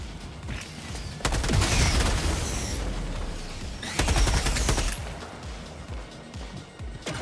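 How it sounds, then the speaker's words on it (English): Gas strike stratagem firing in Helldivers 2, a loud burst of rapid explosive blasts and hissing at two points, each lasting about a second, over steady game noise. "Firing gas strike."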